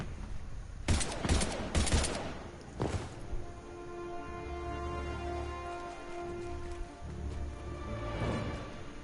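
Particle rifle fire in the video game Mass Effect 3: a few sharp, loud bursts early on, then a sustained electronic whine and rumble that fades toward the end.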